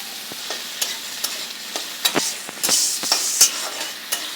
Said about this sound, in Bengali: কড়াইতে তেল দিয়ে দিচ্ছি, তেল গরম হয়েছে, আলুটাকে ভেজে আগে নামিয়ে নেব